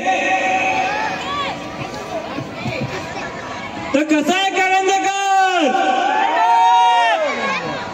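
A crowd at a village festival shouts and cheers loudly in rising, drawn-out whoops, with a person speaking over a microphone just before the surge of voices.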